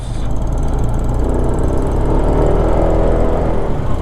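A Honda PCX 160 motorcycle engine runs close by on a trip to a waterfall, giving a steady, even drone for the full stretch with no break or change in pitch.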